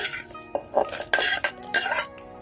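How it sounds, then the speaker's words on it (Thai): Roasted ingredients are pounded for a Thai jaew dipping sauce, producing a close series of irregular, sharp clattering knocks with brief gaps between them and no voices. "มาตำน้ำจิ้มแจ่วก่อนค่ะ"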